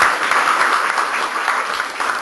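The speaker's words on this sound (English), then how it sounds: "Can we have a round of applause?" A meeting audience in a room breaks into applause, a steady, full wash of many hands clapping at an even level.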